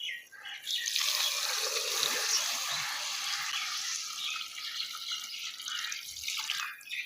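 About 1.5 litres of water poured into a pot of fried mutton trotters for paya, a steady broad splashing gush that runs close and fairly loud for several seconds with no talk over it.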